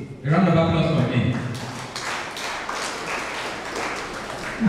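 Clapping from the audience at an Abia State school quiz competition rises after a voice, spreading into steady, moderately loud applause that continues to the end.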